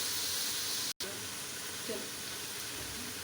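Ginger-garlic paste sizzles and fries in a pan in a home kitchen, a constant bright hiss that runs throughout with one brief dropout, and no talking over it.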